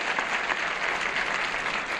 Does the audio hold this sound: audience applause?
yes